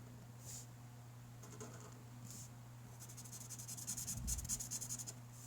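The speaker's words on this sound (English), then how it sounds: "And I'm going to draw in my triangle." A pen scratches across paper while drawing a slope triangle during a math lesson, with faint short strokes and a brief rubbing burst near the end over a quiet background hum.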